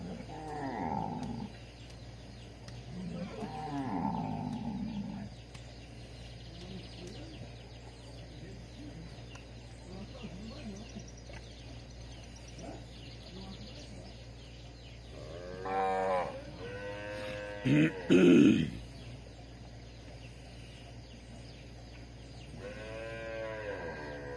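Cow and calf being driven toward another corral on a farm: scattered lowing and moos, a few loud close calls near the end, with quiet ambient stretches between.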